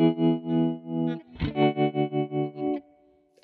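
MoogerFooger Tremolo Tremolo plugin effect pulsing a sustained synth tone in a steady rhythmic swell, loud and distorted, with a brief noisy burst partway through before the pulses resume and fade out.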